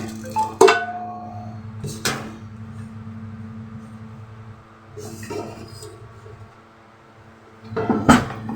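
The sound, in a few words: covering the pan with a pot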